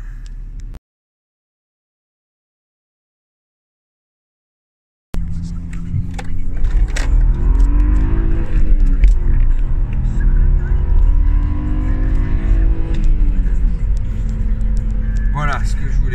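BMW 530i E39 engine in a car, rising in rev toward the limiter after a brief silent gap, a loud sustained rumbling drone with shifting harmonics that climbs and holds, with some voice over it.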